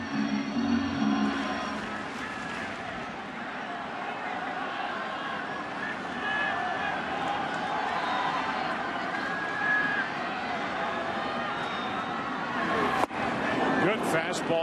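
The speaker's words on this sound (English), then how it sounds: "This crowd, which has been terrific here tonight, loud, wanting a reason to climb back into this game." A loud crowd of baseball fans roaring in a stadium at night during a playoff game, a continuous dense wash of cheering that swells near the end, with a commentator talking over it.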